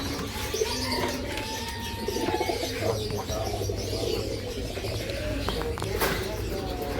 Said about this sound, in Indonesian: burung yang ada di pasar hobi ini adalah rata-rata burung ternak atau burung untuk dilombakan